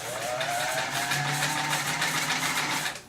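A Necchi 575 Free-Arm sewing machine runs at a moderate, even pace, a continuous close motor hum with rapid rhythmic needle ticking throughout before winding down at the end.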